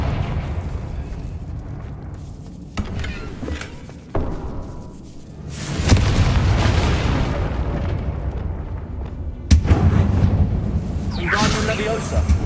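The Confringo fire spell in Hogwarts Legacy, with booming, rumbling blasts and thuds bursting loudly up close amid busy combat noise, with several heavy impacts over the stretch.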